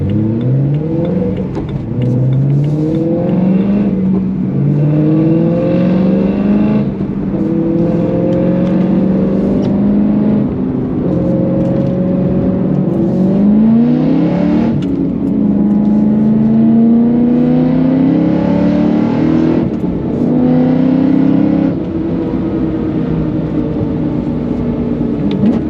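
A Mercedes S65 V12 heard from the cabin while driving, its engine climbing through repeated revving pulls and gear changes, loud and continuous with rising pitch sweeps and no talking.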